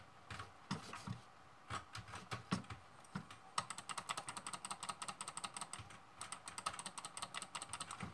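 Rapid clicking of a computer mouse or keyboard while playing CS:GO, with sparse clicks at first and then a dense fast run of taps, close and fairly quiet.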